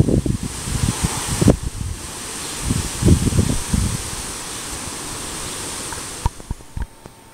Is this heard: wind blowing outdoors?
yes